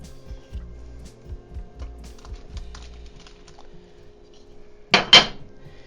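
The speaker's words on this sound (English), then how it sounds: "So I'm just going to add the meatballs to the pan." Meatballs going into a pan for keto Swedish meatballs: soft clattering thuds and scrapes of pan and utensils early on, then two louder sizzling bursts near the end as they hit the hot pan, with no talking.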